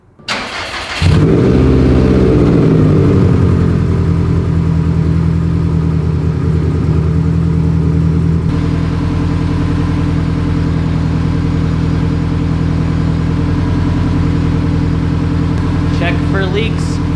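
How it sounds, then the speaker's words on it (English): A Subaru STi engine cranks and catches after a second of quiet, then settles into a loud, steady, close idle with a deep rumbling drone holding for the rest of the stretch. "Start the car to make the oil filter fill up, check oil again."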